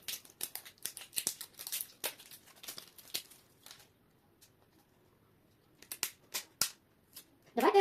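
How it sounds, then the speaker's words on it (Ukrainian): Quick, crisp snips of scissors cutting through plastic, in bursts with a short pause in the middle, close by. "краще його розріжемо ножицями"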